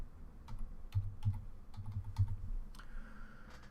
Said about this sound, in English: If it'll let me type it in.